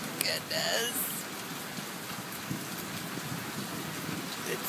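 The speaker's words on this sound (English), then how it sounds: "Rolling thunder." Thunder rumbles low and long during a heavy rainstorm, with a steady hiss of rain pouring on surfaces close by, a sharper crack of brighter noise near the start.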